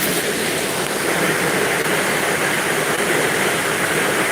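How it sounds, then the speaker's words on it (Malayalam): Heavy, unbroken rain pours down in a steady, loud wash of noise with no pauses, filling the scene evenly from start to finish. "മഴ ഇങ്ങനെ പെയ്യുന്നു"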